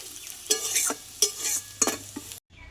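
Fried taro (kochu) is stirred in a pan with three or four loud, scraping spatula strokes over a gentle sizzle, then the sound cuts off abruptly.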